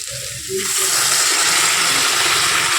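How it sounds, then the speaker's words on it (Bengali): Hot water poured from a pot into a simmering potato curry gushes in abruptly after a brief quiet moment. The water then keeps flowing in a loud, steady, hissing splash until the end. "গরম জলটা ঢেলে দেবো এর মধ্যে"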